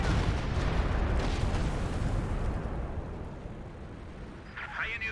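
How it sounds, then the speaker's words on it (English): Dense, continuous rumble of an artillery barrage in the World War II strategy game Company of Heroes 2, loud low booms blending together and easing off toward the end, with a brief higher crackle near the finish. "We do got concentrated fire barrage coming on in as well."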